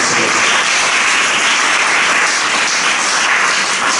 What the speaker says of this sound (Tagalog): Palakpak muna sa Panginoon.